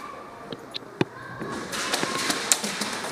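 An airsoft grenade goes off during a domination game at an outdoor airsoft field, a sharp near pop standing out among scattered cracks and impacts, with faint voices around it.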